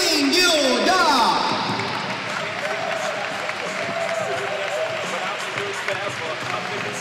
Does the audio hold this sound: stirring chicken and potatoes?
no